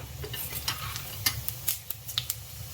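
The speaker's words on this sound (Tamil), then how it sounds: "கொஞ்சம் ஆயில் ஊற்றிக்கலாம். சோம்பு சீரகம் தாளிச்சிக்கலாம்." Fennel and cumin seeds crackle in hot oil in a pan for a Chettinad tomato side dish, with a soft sizzle, scattered sharp pops and light utensil clicks over about three seconds, quiet and close.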